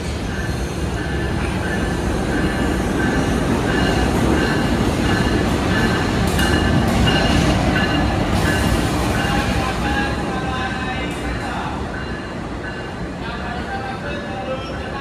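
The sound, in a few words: passenger train running on rails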